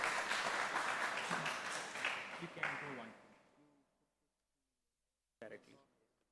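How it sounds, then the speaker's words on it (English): Applause from a hydrogen metallurgy symposium audience, a full burst of clapping with some voices that fades out over about three seconds, followed by silence and a brief late sound. "Give applause again."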